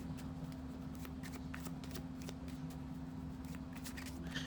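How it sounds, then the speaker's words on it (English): A deck of parenting cards on thick, shiny, sturdy card stock being shuffled, a steady close riffling and flicking that runs without pause under a constant low background hum. "They got a good shuffle."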